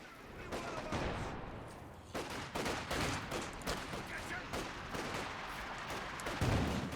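Incendiary grenades and artillery shelling in Company of Heroes 2, a dense run of booming blasts and crackling detonations one after another, loud and continuous with slight pauses between bursts.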